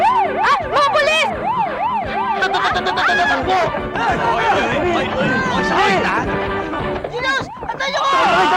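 A police siren wails in loud rising-and-falling sweeps amid a chaotic street brawl, as several people shout and yell over it.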